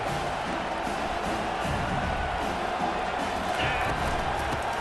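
A football stadium crowd roars steadily throughout a two-point conversion attempt, a dense, distant wall of cheering with no breaks.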